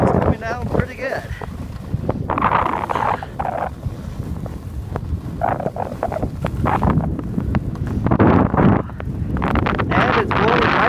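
Wind gusting hard with blowing snow during a ski run in falling snow, a steady roar buffeting the microphone throughout, with people talking over it.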